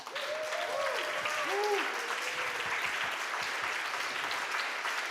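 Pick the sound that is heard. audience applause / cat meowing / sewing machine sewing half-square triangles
audience applause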